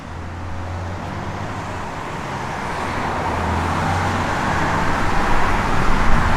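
A 1966 Chevrolet Nova SS drives along a road, its engine and tyre rumble steady and close, swelling gradually louder toward the end with no voices.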